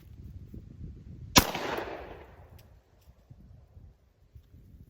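One sharp, loud report from a Glock 29 pistol firing a 10mm round outdoors, followed by a rolling echo that fades over about a second, with faint rustling background noise before and after.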